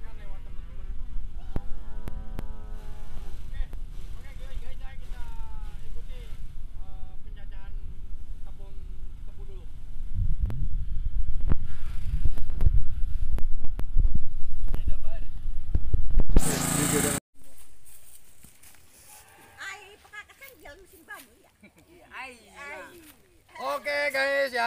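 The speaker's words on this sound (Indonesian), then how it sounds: "Giling tebu." A sugarcane grinding machine crushes stalks with a rough, low mechanical roar that swells in the middle and then cuts off sharply. People talk over it before and after.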